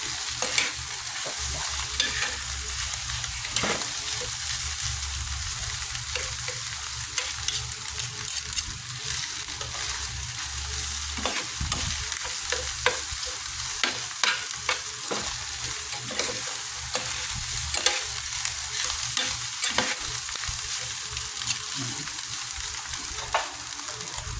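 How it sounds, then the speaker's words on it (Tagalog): Tofu frying in a pan for ampalaya con tokwa, a steady close sizzle with frequent scraping stirs and clicks of a utensil throughout, no voices. "And then, lalagyan natin ang ating tokwa."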